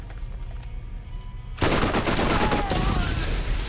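Shotgun fire in Borderlands: Game of the Year Edition. After a quiet stretch, a sudden loud burst of rapid blasts erupts and continues densely to the end.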